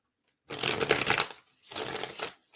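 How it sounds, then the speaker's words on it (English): Two bursts of riffling card shuffles, a longer one followed by a shorter one after a brief pause, close and crisp. "let me shuffle this up real good"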